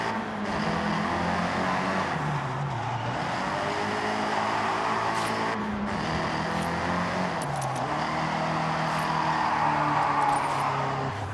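A Nissan Silvia driven through an empty city in Forza Horizon: a steady engine drone that rises and falls with throttle changes, loud and close, with brief rattling clicks, no voices.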